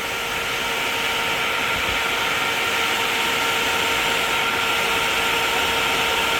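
A Spal electric cooling fan mounted on a Kawasaki KLR650 runs with a constant, loud whirring rush of air and a faint steady hum, unchanging throughout with no talking.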